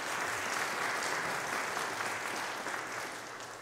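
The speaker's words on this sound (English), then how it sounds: "Let's also give them a round of applause." Church congregation applauding the parish basketball players during a Sunday service, an even, sustained patter of many hands clapping at moderate distance with no voices over it.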